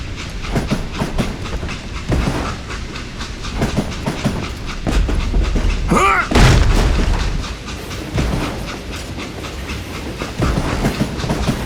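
A train runs in the Western shooter game Call of Juarez: Gunslinger, a loud continuous rumble and clatter of rail cars with a sharp metallic screech and boom midway.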